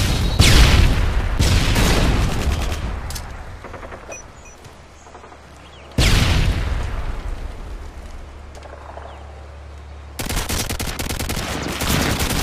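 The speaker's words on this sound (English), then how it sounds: "Throwing stun grenade." Gunfire and explosive blasts in a Call of Duty: Modern Warfare 2 5v5 Search and Destroy match on Wasteland, with a stun grenade thrown and bursting; loud bangs and rattling shots come in three bursts with quieter gaps between.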